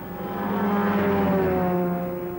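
Small propeller aeroplane droning in flight over remote beach wilderness, a steady loud engine hum with harmonic tones, swelling slightly then holding for a couple of seconds.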